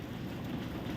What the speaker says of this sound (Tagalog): Walang hinto yung ulan